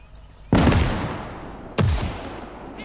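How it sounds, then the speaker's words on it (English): Two loud, close grenade blasts in the World War II game Call to Arms - Gates of Hell, each a sharp boom trailing off in a long rumbling decay, a little over a second apart. "Ich werf eine Granate!"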